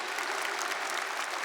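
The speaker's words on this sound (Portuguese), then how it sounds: "Aplauda o seu irmão." Audience at a spiritual retreat clapping steadily, a dense, even wash of many hands applauding throughout, fairly loud and without pause.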